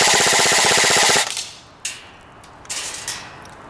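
Cybergun Colt M4 CQB airsoft rifle firing full auto with .25 g BBs, a fast even buzz of rapid shots for about a second, then scattered mechanical clicks and clacks.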